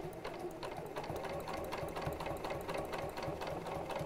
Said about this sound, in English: And I'm going to sew around the edge, not around every single feather,